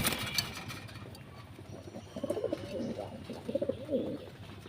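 A pair of large pet pigeons, a male and a bigger female, coo in soft rounded bursts that repeat through the second half, over a low steady background rumble.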